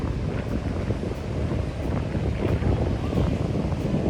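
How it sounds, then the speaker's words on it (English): Strong wind buffets the microphone at a Florida beach, a steady loud roar with gusty swells and faint surf mixed underneath. "I don't know if you guys can hear me with all the wind"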